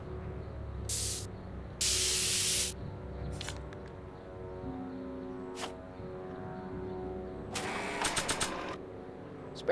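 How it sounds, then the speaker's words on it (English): A spray paint can in the Back to the Future adventure game hisses in several short bursts, one long loud spray among them, over a soft musical background. "Spray paint."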